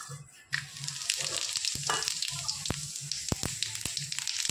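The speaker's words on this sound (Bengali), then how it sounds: "এবার আলু ভাজার ওই তেলেই আমি ফোড়নে দিয়ে দেবো গোটা গরম মশলা আর গোটা জিরে" Whole garam masala and cumin seeds dropped into hot oil left from frying potatoes, a sudden burst of steady crackling sizzle with sharp pops and occasional stirring clinks, close and continuous.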